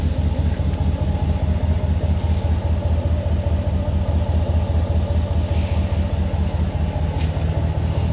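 A Ram Rebel pickup engine idles with a steady low rumble, close and continuous, with no voices and no change in pitch throughout.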